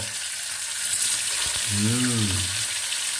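Fish frying in a pan, a steady bright sizzle running throughout, with a voice speaking briefly over it.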